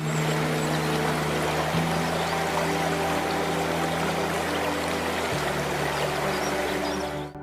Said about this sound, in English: The dam's edge, water flows evenly over in a continuous sheet